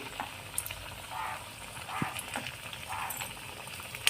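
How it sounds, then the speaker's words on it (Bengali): Pumpkin malpua batter fries in hot refined oil in a kadai, a soft continuous sizzle with faint bubbling and occasional light clicks, quiet and alone. "এইভাবে আমি ভেজে নেব"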